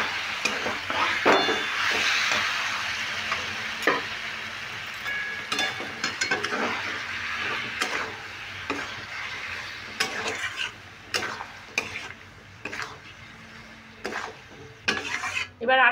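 A spoon scrapes and knocks through amla pickle in a pan over medium heat, with a soft sizzle underneath and irregular metallic clinks against the pan, close up and with no talking.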